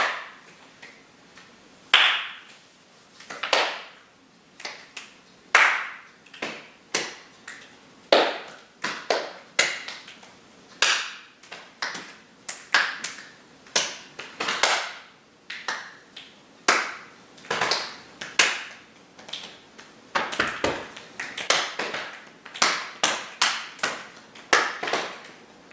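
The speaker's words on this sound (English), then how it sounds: "Make other sounds too, you can clap your hands." Hands clap in irregular bursts, sometimes quick and clustered, sometimes spaced apart, sharp and close in a quiet room with no other sound.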